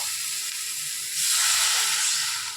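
Water poured into hot spice paste in a pan for a stuffed okra curry, a loud close hiss that swells midway and holds steady, with no talking.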